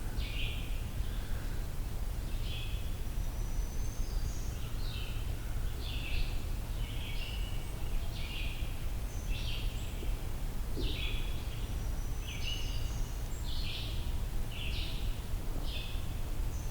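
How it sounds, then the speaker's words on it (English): A red-eyed vireo sings short, repeated phrases in an evenly spaced series from a moderate distance, each brief burst separated by a pause, over a steady low outdoor background hum. "Red-eyed vireo."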